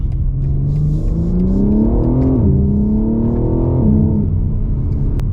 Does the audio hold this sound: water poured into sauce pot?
no